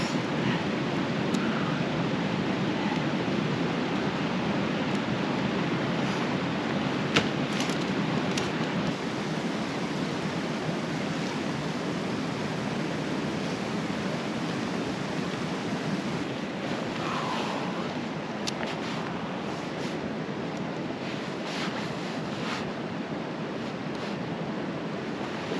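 A river flowing beside a wild campsite in the Cairngorms, a steady broadband rush of water that holds constant and moderately loud for the whole stretch, with no voices.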